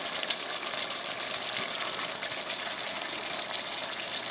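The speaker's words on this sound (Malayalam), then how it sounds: "എല്ലാം ഇട്ടിട്ട് ഒന്ന് ഇളക്കി കൊടുക്കാം" Kerala-style chicken roast sizzles and fries in a pan while it is stirred, a steady close hiss of frying with soft scraping and bubbling textures and no speech.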